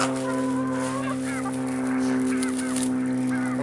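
A flock of chickens pecking at scattered corn fills the air with close, loud clucks, honking squawks and chatter over a steady background hum.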